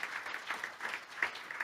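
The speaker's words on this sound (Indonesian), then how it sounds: "Tepuk tangan yang meriah." Faint, distant applause from a church congregation during a sermon, a soft steady wash of clapping heard from far off.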